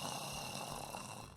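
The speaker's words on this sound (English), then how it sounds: "heard our father snoring coming from the back room." A father snores in a back room in a visual novel game, SINce Memories: Off The Starry Sky, as a brief, steady, breathy rasp with no speech over it.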